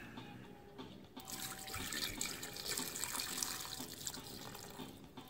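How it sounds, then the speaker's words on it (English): Water pours steadily from a tap into a pot of meat, a continuous splashing rush that swells after a quiet start and runs on without a break. "pour just enough water to cover the meat."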